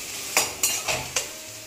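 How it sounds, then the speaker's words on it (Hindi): Onions frying in a pan for a home chicken recipe, giving a steady sizzle with four or five sharp spatula stirs and scrapes at a regular pace, close and clear with no talking. "एक तरफ ये भून रहा है और एक तरफ वो भून रहा है"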